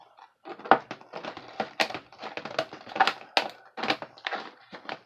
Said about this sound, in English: It'll take me 10 minutes just to get the package open, right?